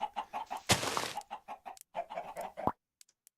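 Chickens in the video game Minecraft cluck in a steady run of short, close clucks, broken early by a louder, noisier burst, with no talking.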